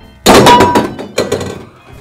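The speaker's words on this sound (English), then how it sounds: "An aluminum can." An aluminum can drops into a recycling bin, giving a sharp metallic clatter followed by a second, smaller rattle a moment later, loud and close with nothing else heard.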